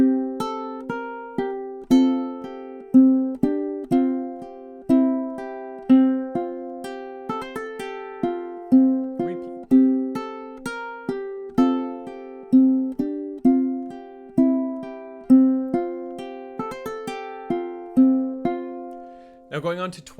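A ukulele plucks a short passage of Deck the Halls, then plays it again, with clear single notes and strummed chords in a steady, even rhythm, heard up close with no voices.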